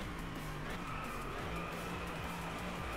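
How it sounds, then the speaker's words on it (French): A Mercedes in the DriveClub racing game slides through a corner, tires squealing under a continuous engine drone, loud and steady throughout. "Tu vois, je suis un peu en glissade."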